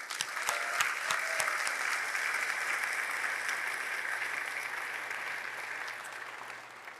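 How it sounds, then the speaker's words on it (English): Sustained applause from a large audience at a university orientation convocation, steady and full throughout, with a few sharper claps near the start and a gradual fade toward the end. "please join me in giving all of these leaders, organizers, and volunteers a round of applause"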